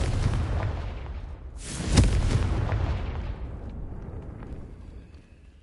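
A Confringo fire spell exploding in Hogwarts Legacy, a single loud booming burst after a rumbling buildup, then a long rolling decay that fades slowly.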